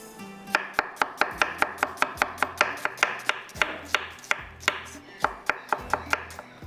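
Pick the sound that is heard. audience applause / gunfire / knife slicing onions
knife slicing onions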